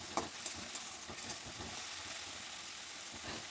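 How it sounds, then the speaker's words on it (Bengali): Prawns frying in oil in a kadai for a jackfruit prawn curry, a steady close sizzle and crackle with a few sharp spits near the start, no talking. "অল্প একটু ভেজে নিলে 2 থেকে 3 মিনিট চিংড়ি মাছ ভাজা হয়ে যায়।"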